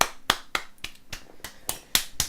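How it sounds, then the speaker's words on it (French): A man claps for himself in a quick, uneven burst of about nine sharp, close hand claps, with no talking. "Ça y est, je m'applaudis."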